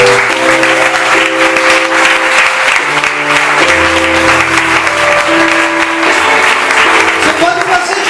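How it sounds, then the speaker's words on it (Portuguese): A church congregation applauds loudly and steadily throughout, dense clapping filling the space while sustained music tones play underneath. "Você pode aplaudir o Senhor."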